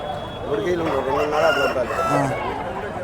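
A rooster crows loudly and close at a busy chicken market, with other fowl and voices in the background.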